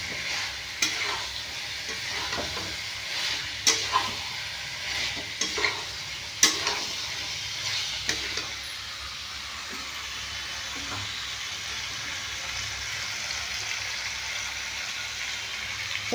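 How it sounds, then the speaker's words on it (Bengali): Pre-fried cauliflower and potato sizzle and hiss steadily in a pan, with clear stirring scrapes and clinks early on that thin out into a continuous fry. "ফুলকপি, আলুটা ভেজে রেখেছিলাম, এটা আমি দিয়ে দেব। সামান্য কষিয়ে নেব।"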